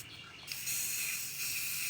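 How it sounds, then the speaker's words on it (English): An aerosol spray paint can hisses in a steady, close, bright spray that starts about half a second in and continues without a break, used for painting found-object sculpture. "So when you do spray paint, you're going to kind of hold it farther away and go back and forth across the surface."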